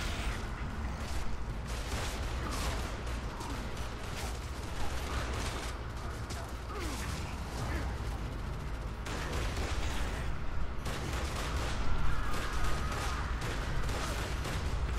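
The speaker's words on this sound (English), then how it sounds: "I guess this is Gear Wars version of like a M1 type rifle" Rapid rifle gunfire and explosions in the Gears of War: Judgment video game on Xbox 360, making a dense, continuous barrage of shots with booming blasts throughout.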